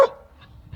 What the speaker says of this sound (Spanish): Y los perros no dejan de grabar.